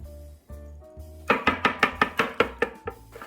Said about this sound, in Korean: 계란 노른자가 다 풀어질 때까지 열심히 섞어줍니다